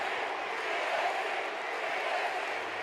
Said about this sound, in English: The crowd chant on for the EST of FDW